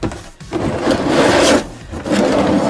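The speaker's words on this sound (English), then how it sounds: "Drain plug loosened up." Wrench loosening the oil drain plug on a 2003 Chevy Express 1500 van, with two short, close grinding, rasping turns of metal on metal.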